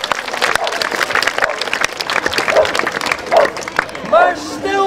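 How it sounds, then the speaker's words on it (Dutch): Applause for two knights after a sword fight at a knights' day event, lively clapping from a crowd mixed with chatter and a few shouted voices, fairly close. "Een applaus voor deze twee ridders"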